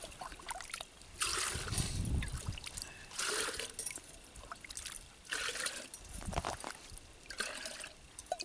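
Fresh brook water trickles and splashes into a kettle being filled outdoors, in uneven bursts of gurgling and dribbling close by.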